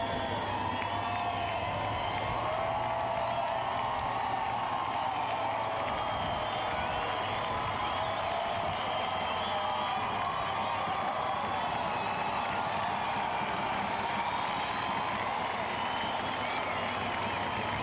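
Dense, sustained crowd roar from grandstand fans at the Knoxville Nationals sprint car race, cheering and whooping from the backstretch during a victory lap, with broad steady noise throughout and a faint voice underneath.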